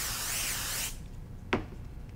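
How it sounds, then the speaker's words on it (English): A sharp, steady aerosol spray hiss of basting spray on fabric runs for under a second, then stops. A short rubbing swish follows in the quiet as fabric is pressed onto foam batting. "Now we're gonna spray baste or clip it if you want."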